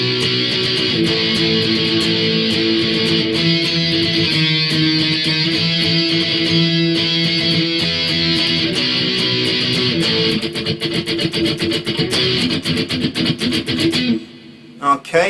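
Distorted electric guitar power chords in the quick chorus, each chord strummed in a fast repeated pattern, loud and steady before thinning into choppy strums and a brief stop near the end.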